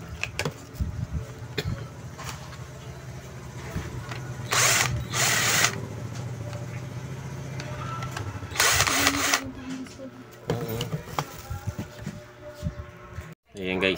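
A repaired electric hand drill that previously would not run gives two short whirring bursts amid clicks and handling noise, with a person talking close by throughout.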